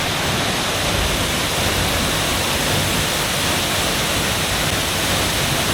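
A waterfall roars steadily and loudly at close range, a continuous broadband rush with no breaks and no voices.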